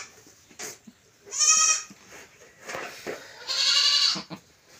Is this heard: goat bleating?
yes